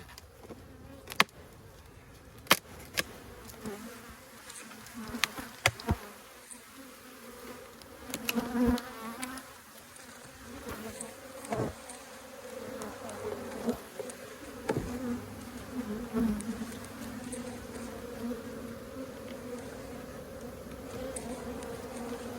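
Honey bees swarm around an open, crowded hive with honey supers being filled. A steady close buzz runs throughout, broken by occasional sharp knocks and taps.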